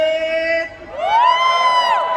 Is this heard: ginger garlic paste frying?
no